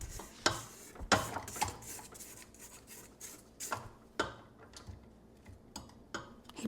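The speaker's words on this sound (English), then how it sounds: "I'm gonna scrape down my sides again" A spatula scrapes the sides of a mixing bowl of orange vanilla sugar cookie dough, giving soft, close scraping strokes and a few sharper knocks against the bowl, fairly quiet and with no talking.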